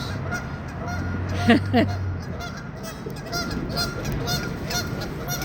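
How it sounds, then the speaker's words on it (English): Geese honk in a brief cluster of loud calls near the middle by the water in Salisbury, Maryland, over a steady outdoor murmur with softer honks and bird chatter continuing. "Hello, little goose, big goose, giant goose."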